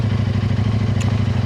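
KTM 890 Adventure R fitted with an Arrow exhaust idles close by, a loud, steady low throb with a rapid even pulse and a light mechanical clatter on top.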